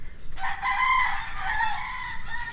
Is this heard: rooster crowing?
yes